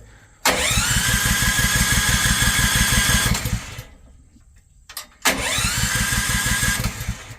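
A combine harvester engine cranks and catches with a loud, rough rumble that runs about three seconds and fades out, then after a short pause a second start attempt bursts in, equally loud and steady to the end.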